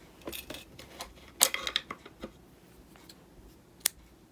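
Scissors cut through yarn during a crochet colour change, giving a few short, crisp snips close by, with a sharp cluster of them in the middle and a single snip near the end.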